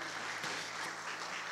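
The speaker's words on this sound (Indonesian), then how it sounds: "Tepuk tangan bagi Tuhan Yesus." Sunday church congregation applauding during a sermon, a brief burst of steady, fairly quiet clapping with a low hum beneath.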